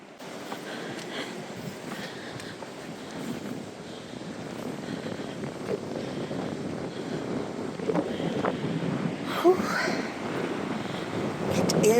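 Steady breezy wind rushes across the top of high sand dunes, a continuous broadband roar buffeting the microphone and building slightly toward the end, with a voice talking over it.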